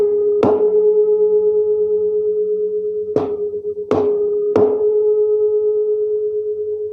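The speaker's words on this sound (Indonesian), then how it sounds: "yang barusan kalian dengarkan itu adalah pelayangan bunyi. Jadi bunyi yang terdengar seperti keras lemah yang berulang-ulang seperti ini ya." Two tuning forks ringing together produce a steady pure tone whose loudness swells and fades in slow beats, with several sharp strikes restarting the ringing; no one speaks.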